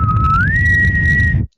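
A person whistles an imitation of the Kushtaka's call, a single clear, close tone that steps up from a lower pitch to a higher one and holds before cutting off.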